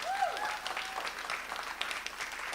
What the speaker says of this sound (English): Give a round of applause for everybody that I just mentioned